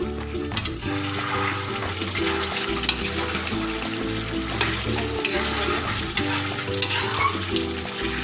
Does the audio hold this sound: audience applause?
no